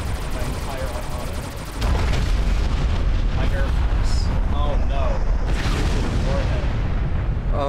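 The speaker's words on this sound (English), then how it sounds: "I sure do hope the nuke doesn't destroy my entire armada." A nuclear blast in the real-time strategy game Supreme Commander 2 strikes an army: a sudden loud, deep boom at about two seconds swells into a sustained rumbling roar with crackling battle noise for the rest of the clip, with no voices.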